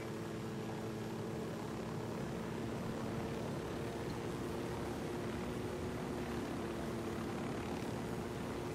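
A helicopter flies in the video game Ghost Recon Wildlands, its engine and rotor making a loud, continuous droning whir with steady tonal hum, unbroken and close throughout.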